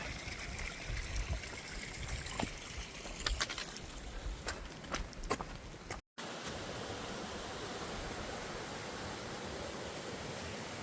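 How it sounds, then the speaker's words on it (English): A small creek flows across a hiking trail near Marion, Virginia, giving a steady, close rushing-water hiss. Faint clicks sit over it early on, and a brief dropout breaks the sound midway. "had to cross this little creek several times here lately, and water's flowing pretty good"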